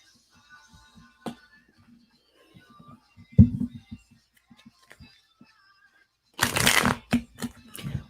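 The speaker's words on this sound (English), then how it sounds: "That was the worst shuffle of my life." A deck of tarot cards is shuffled clumsily, with faint scattered taps and fumbling before a loud riffling burst near the end and a few sharp clicks as the cards settle.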